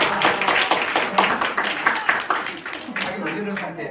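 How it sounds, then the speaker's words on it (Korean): A small group in a classroom lesson claps together, a burst of close, uneven hand claps that gradually thins out, with some voices mixed in during the clapping. "박수."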